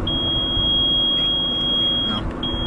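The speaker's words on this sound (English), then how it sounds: "It's in neutral, so it's beeping at me." Inside a farm vehicle left in neutral while switching over fertilizer, a steady high-pitched warning tone sounds continuously, cut off briefly once, over a constant low engine rumble.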